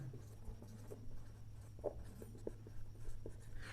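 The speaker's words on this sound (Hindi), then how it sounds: "तो इसमें लिख देता हूँ मैं नो रिडक्शन" Pen writing by hand on paper, soft scratchy strokes in short irregular bursts with a steady low hum underneath, close and fairly quiet.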